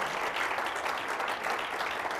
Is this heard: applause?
yes